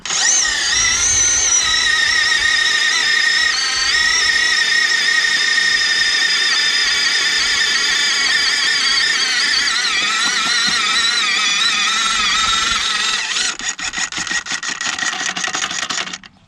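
A Power Planter auger's small engine revs hard and steady at high throttle, with brief throttle bumps to shake dirt off the bit while re-planting baby Christmas trees; loud and close, with a rattling stutter near the end.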